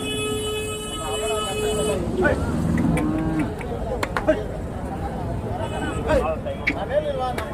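Cattle at the Chintamani cattle market in Karnataka moo in a long, loud, drawn-out call that opens the clip. Further lowing and market chatter follow amid a busy crowd, with people talking throughout.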